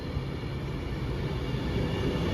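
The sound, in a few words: train arriving at a station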